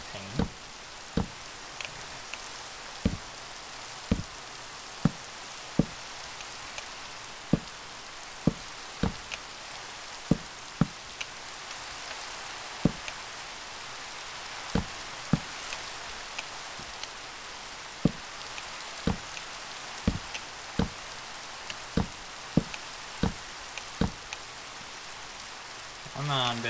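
Steady rain falls in a video game, a soft continuous hiss broken by sharp, regularly spaced drip or tick sounds throughout, with faint speech in the background.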